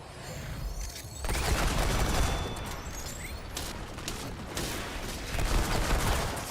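Handgun shots fired in the video game Remnant 2, a dense run of sharp cracks over steady game noise, with bursts of firing rising and falling with no voice heard.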